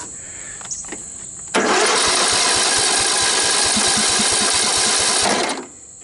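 A Sears LT2000 riding lawn tractor's small engine cranks and roars to life, blades disengaged and in neutral, running loud and steady with a chugging pulse for a few seconds before cutting off.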